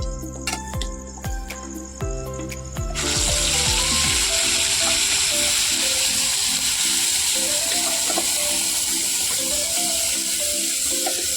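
Ground masala fries in hot oil for chicken cooked over a wood-fired chulha, a loud continuous sizzle that starts after a short burst of music, with the music still playing faintly beneath.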